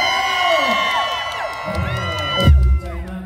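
A crowd at a likay folk-theatre show cheers and whoops loudly at the host's call, a mass of voices with shouts rising to a brief peak before cutting off.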